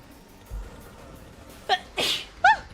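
A person sneezes, a sharp loud burst after a quick intake of breath, followed by a short squeaky vocal sound, close to the microphone in a quiet room.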